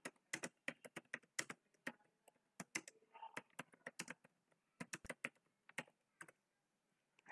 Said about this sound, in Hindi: एड्रेस टाइप किया